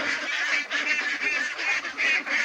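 Pet ducks kept as livestock give a run of loud, nasal honks and quacks in overlapping bursts, close by with no talking.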